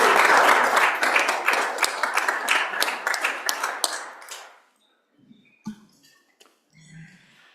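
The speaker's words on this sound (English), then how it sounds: "Huge round of applause for our staff." Senators in a legislative chamber applaud their staff, a dense burst of clapping lasting about four seconds before fading out, followed by a few scattered faint taps and low murmurs.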